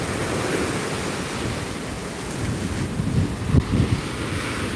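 Big waves pound the shore on the Bicol coast during Typhoon Opong, a broad rushing roar mixed with microphone wind buffeting and a few heavier low surges near the end, no voices.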